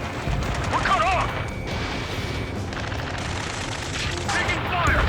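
A dense, continuous firefight from the Ace Combat 7 video game, with overlapping gunshots and blasts forming a loud, rumbling wall of noise and faint radio-like chirps threaded through it.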